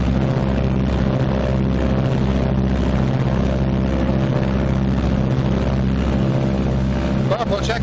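Both engines of a WWII Martin B-26 Marauder run up together toward 1,800 RPM, a loud, steady droning roar with a pulsing low throb and no break.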